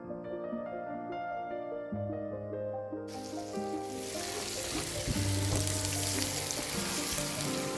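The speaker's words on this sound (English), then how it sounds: "Then fry onions and carrots until golden brown." Onions and carrots fry in a pan, giving a continuous sizzle that swells louder partway through, with faint clinks beneath.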